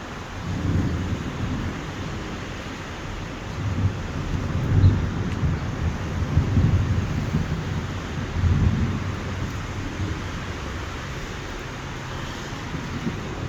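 Low rolling thunder rumbles repeatedly in the distance beneath a steady hiss of heavy rain during a Miami thunderstorm, with no one speaking.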